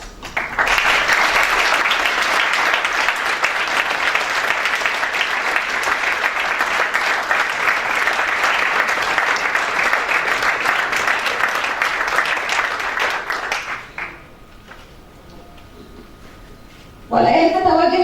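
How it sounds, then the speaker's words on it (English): A crowd gives sustained loud applause for campaign volunteers, a dense continuous wash of clapping for about thirteen seconds that then drops away to near quiet before a brief burst of sound at the end. "please join me in giving them round of applause for their volunteering distinguished efforts"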